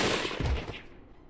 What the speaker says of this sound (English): The row of rifles fired at once, their bullets ripping through Inoue before he fell to the ground.